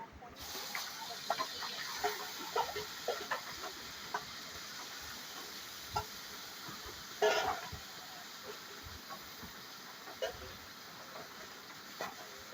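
Marinated fish hisses and sizzles in a little oil in a kadai. A steady frying hiss runs throughout, broken by a few sharper crackles and stirring clatters at moderate loudness, with no talking.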